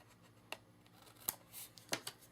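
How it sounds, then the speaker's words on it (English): A paper trimmer slices a thin edge off a handmade card: three quick, crisp cuts spaced about a second apart, quiet and close against a hushed room. "I'm going to take my trimmers and just trim off the little edge"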